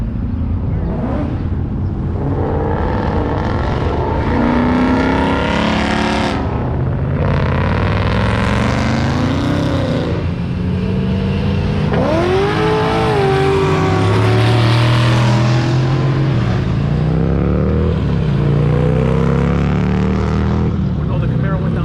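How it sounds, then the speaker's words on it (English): A Chevrolet Camaro drives past at a car meet, its loud engine roaring and sweeping up and down in pitch as it revs by, with people talking nearby throughout. "Oh, the Camaro went down that way."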